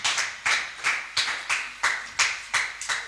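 Congregation clapping in church, a steady rhythmic beat of about two claps per second, moderately near and clear with no voices over it.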